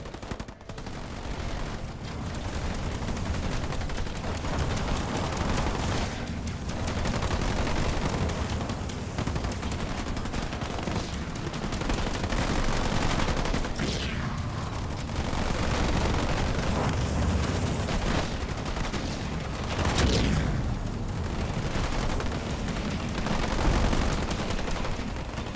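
Turrets in the real-time strategy game Halo Wars 2 fire nonstop in a dense, loud barrage of rapid gunfire and blasts, layered with battle noise and running throughout.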